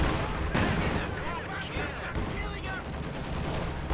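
Tank and small-arms fire in a World War II strategy game battle, including an IS-2 heavy tank shot, heard as overlapping bursts of gunfire and booms over a constant roar of combat.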